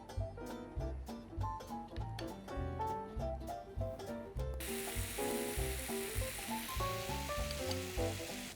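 Pieces of tandoori sweet potato sizzle on a hot grill pan over high heat, a steady hiss that grows louder partway through beneath prominent background music.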